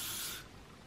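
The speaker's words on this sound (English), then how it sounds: "And then on top of that, just a bit of spray." Hairspray hisses from a can onto styled hair in one short, close burst that cuts off abruptly, leaving a quiet room.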